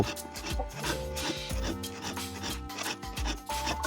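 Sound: filing the teeth of a hand saw

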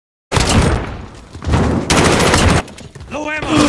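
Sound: gunfire from a video game survival mode

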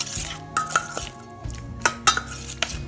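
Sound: stirring tamarind vinaigrette ingredients together

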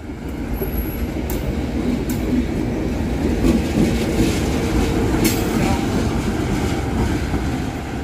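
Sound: train passing during shunting on plantation railway

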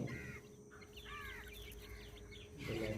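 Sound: chicks eating from hand

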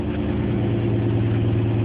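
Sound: car exhaust heard amplified through a DIY tube stethoscope

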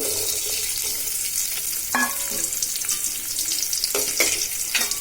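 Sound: chopped onions frying in oil in a pot

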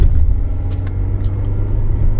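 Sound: Nissan electric car driving up nearby

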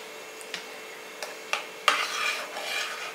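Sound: stirring ragi batter poured into cooked rice

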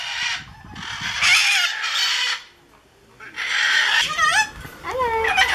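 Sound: naughty talking pet bird calling

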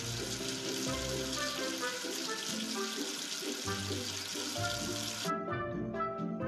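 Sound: water rinsing soap off, cartoon effect

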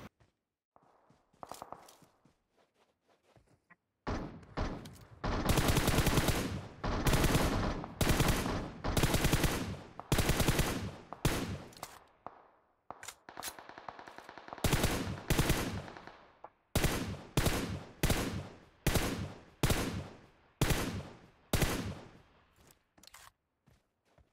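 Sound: gunfire in video game PUBG Mobile

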